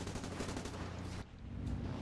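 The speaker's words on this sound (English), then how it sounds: "He's just firing those cannons. He's trying to kill us at long range." Enemy cannon fire against a Sunderland Mk3 flying boat in War Thunder, a dense continuous rattle of rapid shots with a brief dip partway, loud and steady, without talk.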